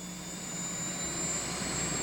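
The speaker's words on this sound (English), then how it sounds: "That's when the Forest Service calls out a helicopter that is especially suited for the job." A Bell 205 helicopter used by the Forest Service as an initial attack machine for wildfires gives a steady turbine whine and a broad rotor roar, constant and fairly loud throughout.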